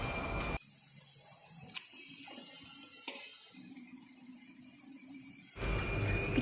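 A bottle labeling machine starting up and running: a low mechanical hum with faint clicks, ending in a louder whirring rise.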